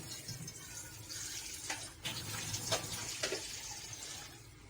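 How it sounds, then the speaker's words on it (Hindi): Water is poured into a juicer jar that already holds yogurt and gram flour, a soft, close splashing trickle with a few brief gurgling surges, fairly quiet throughout. "आधी गिलास में इसमें पानी डाल रही हूँ"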